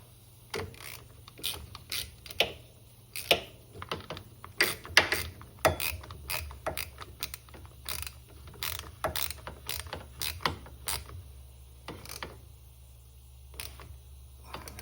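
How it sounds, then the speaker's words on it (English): A hand ratchet tightens a brake caliper bolt on a 2024 CFMOTO ZFORCE 950 trail side-by-side, giving a quick series of close, crisp clicks in uneven bursts against a quiet background. "We'll tighten it up with the ratchet."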